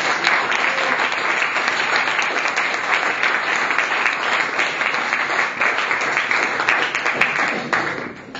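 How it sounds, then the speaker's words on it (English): A crowd of people gathered at a lab event applauds loudly and continuously for about eight seconds, a thick, steady roar of clapping that tapers slightly at the end. "give them a big applause because."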